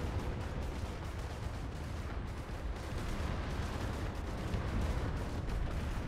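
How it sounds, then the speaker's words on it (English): Gunfire and artillery from an enemy base in the Planetside 2 video game, a dense continuous wall of booming shots and rumbling blasts, steady and loud throughout with no talk. "This base is shooting stuff."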